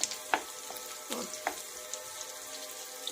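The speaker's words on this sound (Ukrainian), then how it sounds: "Оце зараз я так трошечки слегка цибульку притушу." Onion sautéing gently in butter in a pan gives a quiet, even sizzle, with a few light clicks and taps of a spatula, faint and close.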